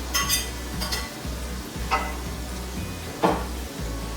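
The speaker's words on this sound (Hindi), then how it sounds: "अब हम इसको अच्छे से भून के मसाले को अच्छे से ब्राउन करके" Ground coriander and crushed green chillies fry in a pan for a tripe dish, a loud, constant sizzle broken by several sharp scraping stirs of a spoon against the pan.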